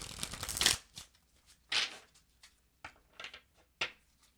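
Tarot cards are shuffled close up, a longer riffling rush followed by a series of short, separate flicks and slaps as the deck is cut and handled.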